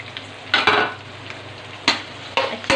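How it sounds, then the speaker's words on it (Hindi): Two medium sliced onions frying in hot oil sizzle steadily while a spoon stirs them in bursts, loud close scrapes and clatters breaking through the crackle. "अब इसी ऑयल में मैंने 2 मीडियम साइज्ड अनियन स्लाइस करके रखे हैं, वो मैंने डाल दिए।"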